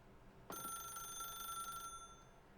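A video game telephone rings with a sudden electronic trill that starts abruptly, holds steady for about a second and a half, then cuts off, faint against a quiet background.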